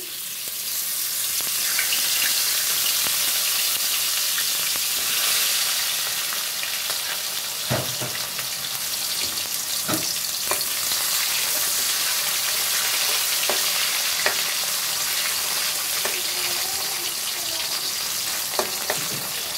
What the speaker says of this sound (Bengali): কিছুটা আলু ভেজে নিয়েছি, আরও একটু বাকি আছে, ভেজে নিব